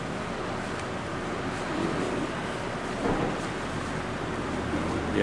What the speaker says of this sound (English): yeah, it's raining good.